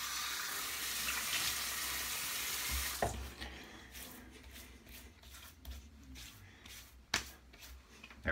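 A bathroom tap runs with a steady, fairly loud hiss of water for about three seconds while the face is wetted for a wet shave, then stops, leaving soft splashing and dabbing sounds of water on skin.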